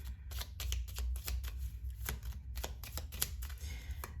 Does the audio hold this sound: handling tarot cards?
yes